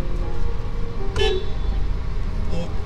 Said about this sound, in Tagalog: Yung busina niya